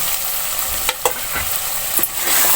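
Mutton liver fries in masala in a pan, a loud close hiss with a few scraping stirs of a spoon, with no talking.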